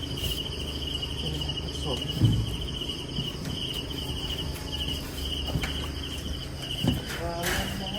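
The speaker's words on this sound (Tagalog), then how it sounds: "Narinig ko pa yung mga kuliglig." Crickets chirp steadily in the background outdoors during a trip through a flooded area, a continuous high trill under nearby talk and a few footstep-like thumps.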